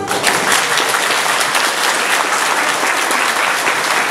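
Loud, sustained applause from a crowded hall at a jubilee ball honoring the founder, a dense continuous clapping with no pauses throughout.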